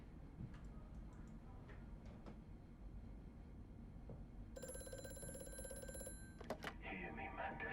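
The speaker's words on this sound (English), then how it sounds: "Of course we're getting a phone call." A phone in a video game rings in a single steady electronic tone burst of about a second and a half, over constant low rumbling game ambience with scattered clicks.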